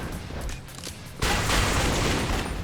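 Grenades thrown at zombies explode in Yakuza Dead Souls. A dense, loud blast of noise cuts in suddenly and holds steady, following a rougher stretch of gunfire-like clatter.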